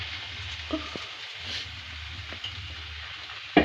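Potatoes and chutney for bhungla bateta are stirred in a pan with a soft, steady sizzle, a few scraping strokes and a sharper clink near the end.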